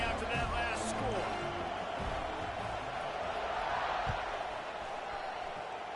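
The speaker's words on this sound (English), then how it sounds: "this crowd is buzzing after that last score" A college football stadium crowd at a Penn State versus USC game keeps up a steady, broad murmur before kickoff, with a commentator talking over it throughout.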